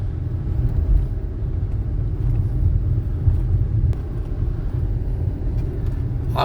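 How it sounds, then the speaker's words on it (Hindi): A car climbs a steep single-lane mountain ghat road toward Kalinjar Fort, its engine a steady low rumble with road noise, continuous and fairly loud with no talking. "हमारी गाड़ी पहाड़ में ऊपर चढ़ती चली जा रही।"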